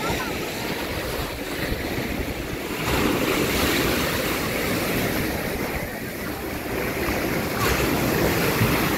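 Strong ocean waves surge and crash continuously during a typhoon in Guimaras, Iloilo, Philippines, with heavy wind buffeting the microphone throughout.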